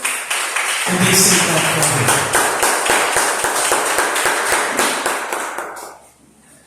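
A church congregation applauding for Jesus, loud dense clapping with rhythmic beats building and then fading out, while a voice speaks over it near the start.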